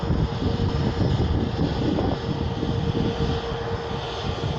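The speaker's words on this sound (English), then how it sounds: "that's EasyJet Airbus A320neo" EasyJet Airbus A320neo on a positioning flight at Manchester Airport, its engines giving a steady, fairly loud broadband roar from a distance, with some wind buffeting the microphone throughout.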